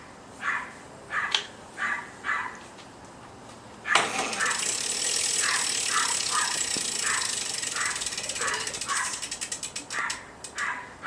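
A homemade electric bike motor starts under throttle with a loud, steady mechanical whir and rattle that holds for several seconds, after a few short ticking bursts before it and pulsing ratchet-like clicks as it runs.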